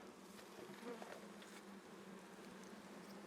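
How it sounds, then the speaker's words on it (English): Honeybees of a tiny colony in a bird box hum and buzz continuously at low volume, a dense, steady drone with no voices. "That's a lot of bees."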